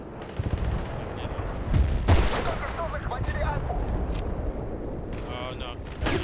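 Rapid automatic gunfire and explosive bursts from a Battlefield: Bad Company 2 Rush match crackle loudly in quick volleys under a player's talk.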